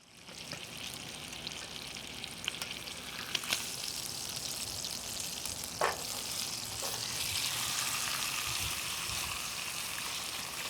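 Fresh vegetables sear in a pan at a campsite, giving a steady close hissing sizzle that swells louder toward the end, broken by a few faint clicks and taps of utensils.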